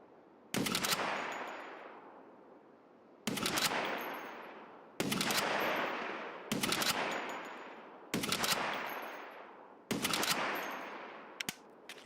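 Bursts of automatic rifle fire in the shooter game Escape From Tarkov, about six loud sustained volleys separated by short pauses, each ringing out and decaying, with a couple of quick single shots at the end.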